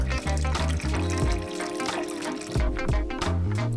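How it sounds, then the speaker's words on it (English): Water pours into a container for making oatmeal, a close, gurgling splash with shifting pitch over a low background hum. "Every great oatmeal starts with water."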